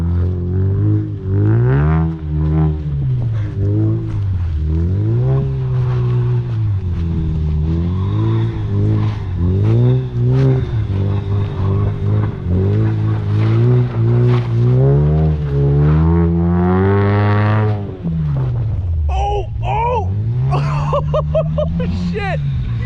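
A Ford Focus RS drives and drifts through deep snow during a wild snowstorm, its engine revving and wavering loudly up close while excited voices talk and shout over it throughout.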